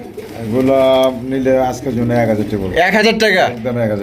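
Pigeons coo in throaty, repeated bursts up close, loud and continuous; a voice may also be mixed in at a pigeon market.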